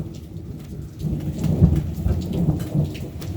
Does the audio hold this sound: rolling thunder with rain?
yes